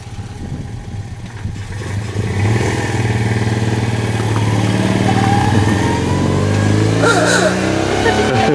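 An old sports car engine revs near a hotel terrace in Provence, its rising, buzzy drone sounding much like a motorcycle, climbing steadily in pitch and staying loud throughout.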